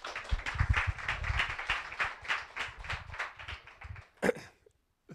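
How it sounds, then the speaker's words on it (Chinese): Audience applause for a panel speaker at a tech conference panel on mistrust and technology, a steady round of clapping from the crowd lasting several seconds, fading out near the end after one sharper sound. "那我们掌声给 Ethan。"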